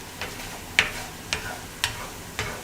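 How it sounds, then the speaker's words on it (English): Mushrooms are stirred in a black frying pan, a soft, low sizzle running underneath four evenly spaced scraping taps of the utensil against the pan, close by and fairly quiet. "Stir my pan around here."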